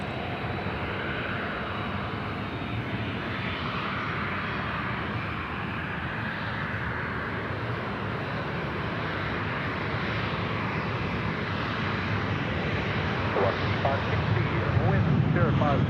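A low airliner passes over the trees near Sydney Airport, its engine roar steady and strong, then building louder and deeper at the end, with a voice talking over it.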